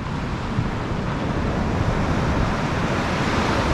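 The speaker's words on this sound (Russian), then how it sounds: "Видите, как шторм, куда волны добивали." Sea waves after a storm on a fine-sand beach at a resort hotel in Antalya, Turkey, give a steady broadband roar of surf mixed with wind buffeting the microphone, loud and unbroken.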